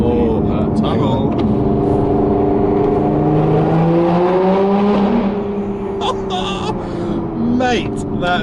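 A Lotus Evora 400 revs in a tunnel, its exhaust note rising and falling in loud, echoing sweeps with rhythmic crackles near the end, close and dominant.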